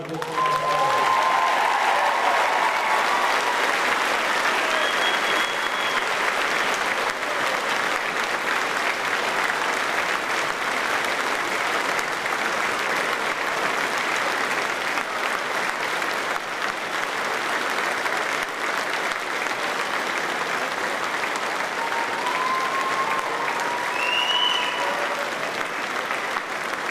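A large audience applauds at a graduation ceremony in a long, steady wash of clapping that stays loud for nearly half a minute, with a few faint whistles or cheers rising above it.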